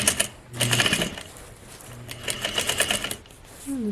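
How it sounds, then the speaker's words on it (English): A sewing machine backstitches over a belt loop on a pair of trousers, sounding as two short bursts of quick, close needle clatter separated by pauses, with a little faint voice near the end. "I'm going to backstitch over the whole thing and then go forward again"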